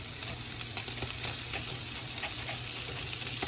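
Smash burger patty frying in a hot pan, a steady close sizzle with small scraping and clicking touches of a spatula throughout, no voices.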